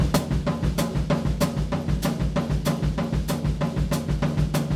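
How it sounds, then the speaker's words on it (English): A drum pattern of fast right-hand hi-hat or cymbal strokes with a pulsing bass drum, steady and close, played alone without talking. "first lick we want to do is the right hand and bass drum."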